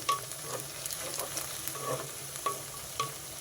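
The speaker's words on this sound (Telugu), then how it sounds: "ఈ కర్రీకి ఉల్లిపాయలు కాస్త వేగితేనే బాగుంటుంది" Onions fry in a pan for a cauliflower and green peas masala curry, a soft, steady sizzle with occasional light stirring clinks from the spoon, close and fairly quiet.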